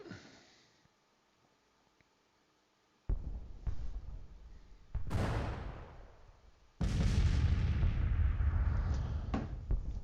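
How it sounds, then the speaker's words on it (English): Cannon artillery in the Civil War battle game Grand Tactician fires in heavy, booming volleys: a quiet lull, then a blast near the three-second mark, another at five, and a sustained roar of overlapping shots that fills the rest. "Cannon, king of the battlefield."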